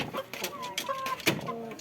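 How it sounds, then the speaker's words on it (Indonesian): Sick chicken with a rattling, snoring breath, heard as short wheezy clucks and raspy snorts in a close, fairly quiet stretch of about two seconds with no talk. "cara mengatasi ayam yang ngorok"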